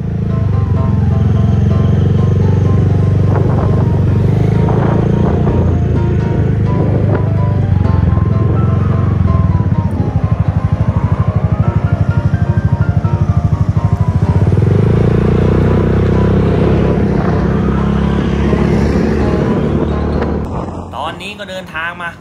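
A motorcycle engine drones steadily and loudly while riding on a road trip, the tone rising and falling with throttle changes, close to the rider, before fading near the end; a voice talks over it.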